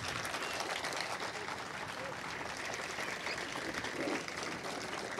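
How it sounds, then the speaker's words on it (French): Faint, distant applause from an audience at an official ceremony unveiling a facade mural, honoring the artist, a steady low wash of clapping heard from afar. "Je crois que l'artiste mérite davantage d'applaudissements."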